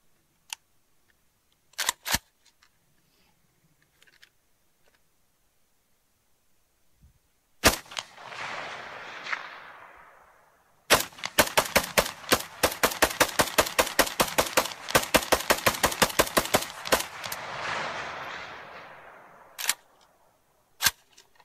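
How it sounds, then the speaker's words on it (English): An AK-47 with a steel magazine fires at a target nearly 300 meters away. A few scattered single shots lead into a long rapid string of sharp cracks, each with an echoing tail, heard outdoors without speech. "We'll start with the steel mag. AK-47 open sights, target at almost 300 meters."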